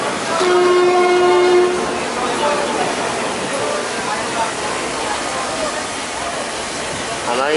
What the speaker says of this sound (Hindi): हमारी ट्रेन निकल चुकी है